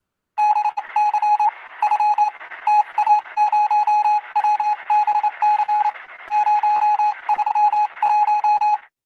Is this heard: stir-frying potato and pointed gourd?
no